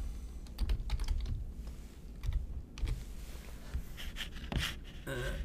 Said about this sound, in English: if we go to Google and we type in